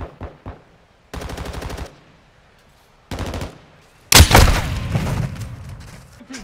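Automatic gunfire in Call of Duty: Modern Warfare II: two rapid bursts of evenly spaced shots, then a louder close blast with a rumbling tail of further firing and explosion debris.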